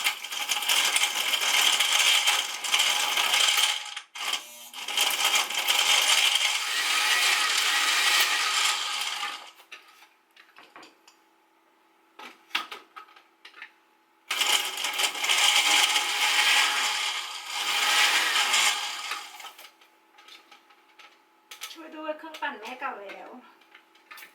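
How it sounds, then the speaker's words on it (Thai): A loud old blender roars and grinds through ice for a mango smoothie in long bursts, stopping between runs, with clattering and rattling in the quiet gaps. "เครื่องปั่นมันเก่าแล้ว"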